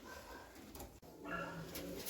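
Red cheena pigeons coo softly in a continuous low murmur, with a faint background hum and no distinct individual calls standing out.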